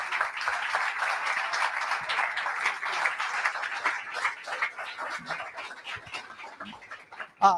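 A church congregation claps steadily for several seconds, a dense patter of applause that thins and becomes more scattered toward the end.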